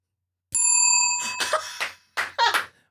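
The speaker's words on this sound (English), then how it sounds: "Wait, ring the bell." A single bright bell ring sounds at a dinner call, its clear tone sustaining briefly before people talk and laugh over its fading ring.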